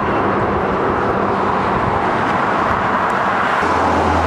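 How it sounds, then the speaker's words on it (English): Constant rush-hour road traffic, a steady broadband roar of passing vehicles with no gaps, moderately loud and unbroken, a deeper hum entering near the end. "I guess we've hit rush hour. The traffic is pretty constant now."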